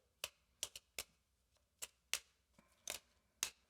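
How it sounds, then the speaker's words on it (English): Combat cards from the Tainted Grail: The Fall of Avalon board game deck shuffled by hand, about ten short crisp riffling snaps spaced irregularly, close and quiet, with no talk. "and now we could shuffle"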